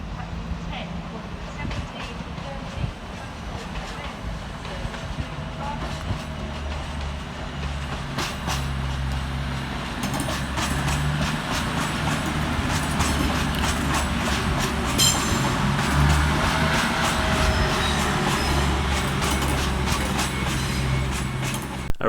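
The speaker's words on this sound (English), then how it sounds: "Departing on the far side is 220014, working the 1725 cross-country service through to Bournemouth." A Class 220 CrossCountry train, 220014, pulls out from the far side at Manchester Piccadilly on the 1725 service to Bournemouth, its engine rumbling under steady wheel noise and rising clatter, while someone talks over it.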